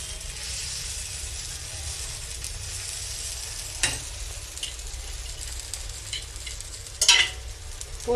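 A chickpea flour pancake (chana pudla) cooks in an oiled pan with a close, steady sizzle and hiss, and a few brief crackles and spatters toward the end.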